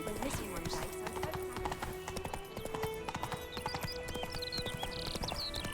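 Roach, Geralt's horse in The Witcher 3: Wild Hunt, gallops with steady clip-clopping hooves throughout, mixed with a whinny and game music, while voices talk over it.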